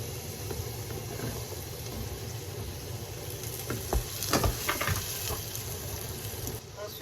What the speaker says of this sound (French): j'ai mis l'huile d'olive, ça chauffait. Je vais mettre l'ail. Ensuite, je vais rajouter les oignons.